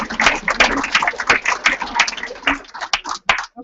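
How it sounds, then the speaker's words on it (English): Audience at a fibromyalgia and chronic fatigue wellness workshop gives a round of applause, dense close-range clapping that runs steadily before thinning out into a few scattered claps at the end. "give them a round of applause"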